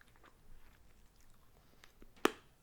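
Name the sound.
crunchy Japanese dagashi snack being chewed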